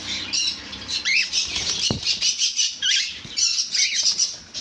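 Lutino and black cockatiels squawk repeatedly in shrill bursts while wings flap and flutter nearby; one sharp knock cuts through the chatter.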